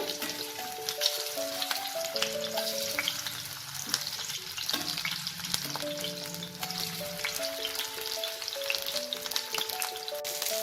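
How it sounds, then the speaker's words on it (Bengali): Fish pieces frying in a pan, with a steady, close sizzle and spattering crackles, plus stirring sounds and faint tonal background music underneath. "এটা আমি দুপাশ থেকে লাল করে ভালো করে ভেজে নেব।"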